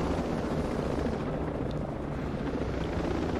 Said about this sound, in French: Il y a un petit hélicoptère et un gros de combat.